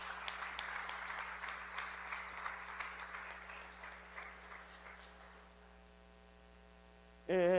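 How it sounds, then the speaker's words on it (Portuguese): Church congregation applauding during a Sunday evening celebration service, dense clapping that thins out and fades to a low hum before a brief loud burst at the end. "Você pode aplaudir o nome do Senhor nessa noite?"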